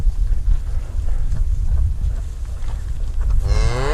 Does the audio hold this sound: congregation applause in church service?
no